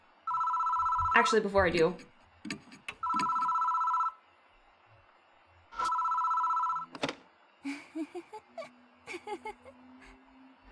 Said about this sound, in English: I'll pick up the gosh dang phone.